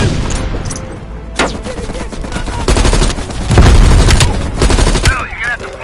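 Machine gun fire in Call of Duty Black Ops Cold War, dense and loud, with bursts of gunfire and booms crowding the mix while a voice shouts orders over the battle.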